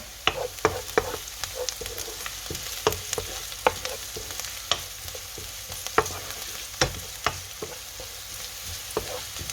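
Onion and potato filling for potato bonda fries in a pan, a steady sizzle broken by frequent light scraping and clinking of a spoon stirring against the metal, close and without talk.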